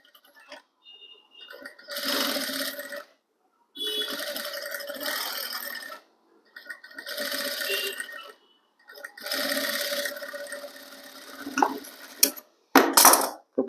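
A sewing machine stitches folded fabric in four bursts of steady, fast mechanical whirring, each lasting a couple of seconds with brief pauses between, followed by a few clicks and a short rustle.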